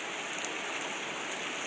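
Heavy rain falling outdoors in Connecticut, a steady, even hiss of drops pattering on surfaces, fairly faint and continuous, with no voices.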